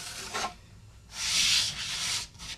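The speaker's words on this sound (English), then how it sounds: "you're not hurting the edge by doing this, you're just deburring it" Deburring stone rubbed along a snowboard's metal edge, giving a few short gritty rasping strokes of varying length, close and fairly loud with no talking.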